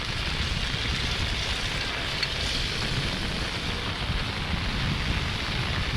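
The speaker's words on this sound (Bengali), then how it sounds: "এত পরিমাণ স্রোত এখানে" Strong current of rainwater floodwater rushing past during a stormy monsoon rain, a steady broadband roar of turbulent water with wind, continuous and close, with no voices.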